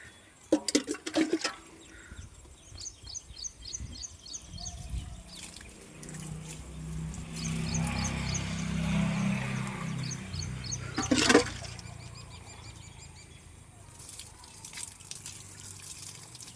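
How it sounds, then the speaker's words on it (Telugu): Mugs of water are poured onto newly planted trees, with splashing pours and trickling running over about sixteen seconds, separated by brief drips and handling noises at close range. "లాస్ట్ ఫైనల్గా మనం వాటర్ ఒక 2 మగ్గులు అయితే పోయేద్దాం."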